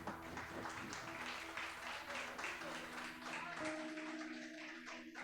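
A church congregation claps in praise during a family worship service, a steady dense patter of many hands filling the room, with tonal music or voices held underneath.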